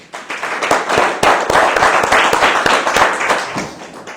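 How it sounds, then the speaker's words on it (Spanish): Church congregation claps together after a devotional talk on prayer, sharp overlapping handclaps forming a brisk, loud burst that carries on for several seconds. "Démosle un aplauso al Señor."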